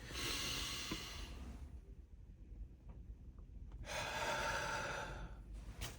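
A deep breath is drawn in and let out slowly, with a long, close, airy inhale, a quiet pause, then an equally long exhale, and nothing else heard.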